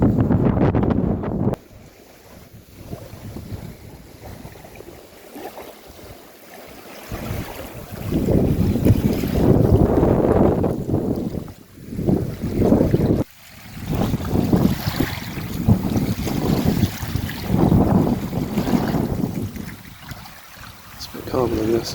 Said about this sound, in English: Still this like bitterly cold wind.